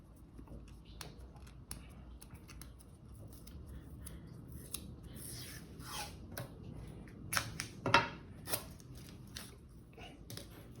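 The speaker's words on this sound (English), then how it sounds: "And then we tape it onto the other side." Strips of tape pulled and pressed by hand to fix tracing paper over a drawing, a series of close, crisp tearing and rubbing bursts with brief sharp snaps near the end over a low, steady room hiss.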